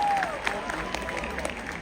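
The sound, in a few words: audience applause at a jazz day concert in Yerevan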